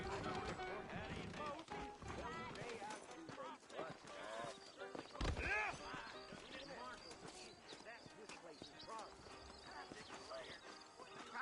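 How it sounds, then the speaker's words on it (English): Saddled horses' hooves clip-clop on a frontier street in Red Dead Redemption, with an occasional whinny, under near-constant talk and game music. "I got the horses saddled up and ready out front."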